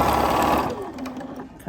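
A sewing machine stitches a quilt block in a short, close burst that slows and fades, leaving a faint mechanical hum.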